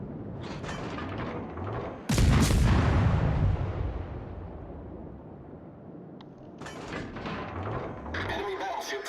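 Anti-aircraft guns fire in World of Warships naval combat: a loud, sudden booming volley that rolls off into rumble, then renewed rapid gunfire later, with a voice speaking at times.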